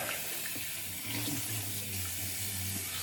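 Cold water runs steadily from a tap into a sink, a constant rushing hiss that stays at an even level throughout, nearby and unbroken.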